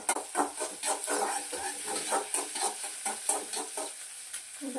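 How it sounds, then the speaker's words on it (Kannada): Egg noodles fry with pepper in a pan, giving a steady sizzle broken by repeated scraping stir strokes at a fairly even rhythm, close and moderately loud with no talking. "ಪೆಪ್ಪರ್ ಹಾಕಿ ಈ ಥರ ಫ್ರೈ ಮಾಡ್ಕೊಳ್ಳಿ"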